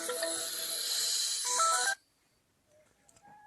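A mobile phone ringtone chimes loudly on a Turkish sheep farm for about two seconds and then cuts off abruptly, leaving faint quiet background sounds.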